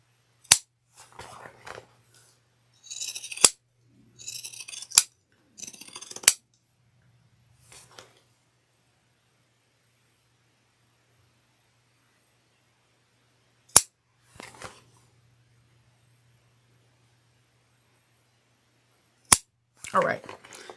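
Scissors snip through cork layers at the corners of a Deana clutch wallet, trimming away bulk in a few separate sharp cuts spread across a quiet stretch, with long silent gaps between bursts.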